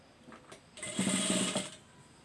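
A sewing machine stitches a blouse, a steady mechanical whir of about a second that starts after a few faint knocks and then stops, fairly quiet with no talking.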